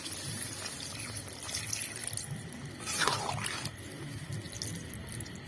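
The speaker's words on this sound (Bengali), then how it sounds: "বন্ধুরা আমি মাংসটা ভালো করে কষিয়ে নিয়েছি এবার জল দিয়ে দেবো" Water poured from a vessel into a pan of well-browned spiced chicken curry, a steady splashing flow that runs for several seconds, briefly swelling louder midway, with cooking noise beneath.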